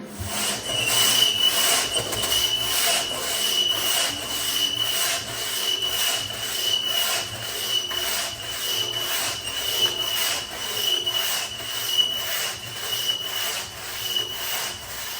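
A saw cuts through old chestnut oak hardwood in a steady, rhythmic back-and-forth rasp with even strokes about twice a second, close and moderately loud, with no talking.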